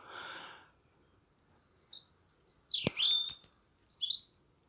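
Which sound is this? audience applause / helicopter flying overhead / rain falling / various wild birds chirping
various wild birds chirping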